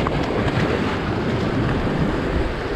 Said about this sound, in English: The waves are coming. Small wave.